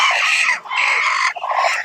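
Desi hens on a village poultry farm cluck and squawk close by in a quick continuous run of calls, loud and without talk.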